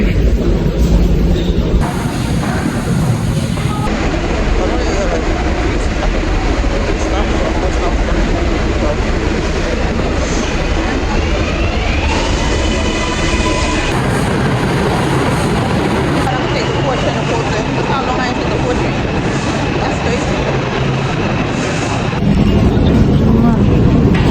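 Steady broadband rumble of a New York City 5 subway train in motion, continuous and loud throughout with shifting tones, people talking faintly under the din.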